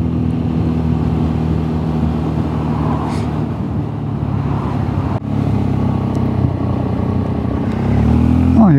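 A BMW C 400 GT maxi-scooter rides along an English road, its steady engine drone and road noise continuous and close, rising slightly near the end, with no talk.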